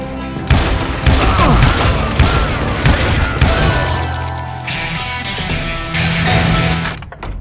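Rapid gunfire and heavy impacts in the Western shooter game Call of Juarez Gunslinger, loud repeated shots and booms in irregular bursts with crashing effects, a brief grunt-like voice in the mix.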